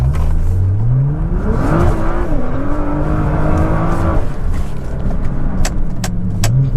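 A Chevrolet Corvette ZR1 engine drops through gears and accelerates, pitch rising, dipping with each downshift, then climbing again, loud and close with sharp pops near the end.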